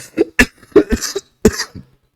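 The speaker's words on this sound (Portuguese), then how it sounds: "ainda tô mal, tô tossindo muito." A run of harsh, dry coughs from one person, about six bursts in two quick clusters separated by a short pause, close and loud with no talk.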